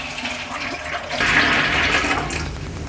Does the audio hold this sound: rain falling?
no